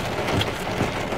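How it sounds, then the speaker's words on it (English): Heavy rain pours down in Florida, a dense, steady hiss of drops hitting surfaces throughout, fairly loud and close with no voices. "It's downpouring. I hate the rain out here in Florida."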